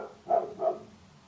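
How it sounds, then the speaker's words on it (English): A dog barks twice outdoors, muffled and distant through walls, two short evenly spaced barks over quiet room tone. "so I apologise, you can probably hear her barking"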